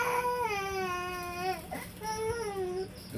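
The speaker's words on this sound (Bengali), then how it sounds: "বিলাই কান্দে নাকি" A cat cries with two long, drawn-out wavering meows in a row, moderately close, against a quiet room background.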